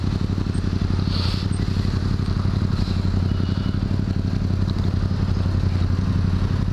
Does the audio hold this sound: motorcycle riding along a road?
yes